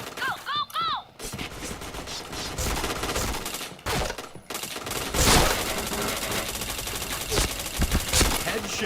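Rapid bursts of gunfire in the PointBlank shooter game crackle close and loud in dense, overlapping volleys, with short gaps between strings of shots.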